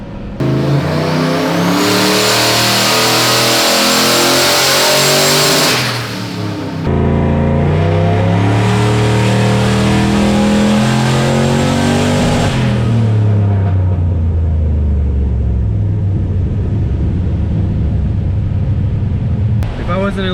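A turbocharged Foxbody Mustang with an On3 turbo kit and Holley Terminator X management revs hard on a tuning run, loud sweeping engine pulls rising and falling twice with turbo whine on top, then a sudden drop to quieter running.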